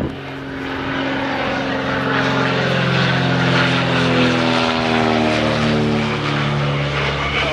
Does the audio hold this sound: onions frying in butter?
no